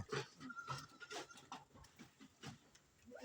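A goat on a farm, about three years old, gives short bleating calls mixed with other farmyard animal noise, fairly close and moderately loud over a few seconds.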